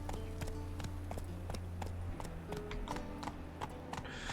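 A horse trots in The Witcher 3, with steady, evenly spaced hoof clip-clops over a low game ambience and faint background tones.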